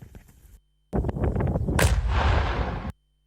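A single loud, close explosion in Dnipro, set off by bomb disposal technicians destroying missile and drone debris, booms out after a brief silence, its roar sustaining for about two seconds before cutting off abruptly.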